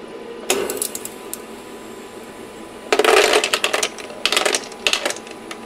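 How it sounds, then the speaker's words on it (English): Fresh ice from a Freezimer countertop ice maker's first batch clatters and drops into the bin in a short burst, then a longer run of loud hard clinks and rattles follows, close by after a quiet mechanical hum. "We are now harvesting our first batch of ice."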